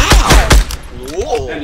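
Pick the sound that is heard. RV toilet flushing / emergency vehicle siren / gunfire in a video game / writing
gunfire in a video game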